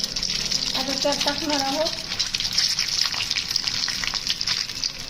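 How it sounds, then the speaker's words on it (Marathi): Eggs frying in a pan for an egg curry, a constant bright sizzle and crackle running throughout, with a voice speaking briefly over it. "अंडे आपण फ्राय करून घेऊया।"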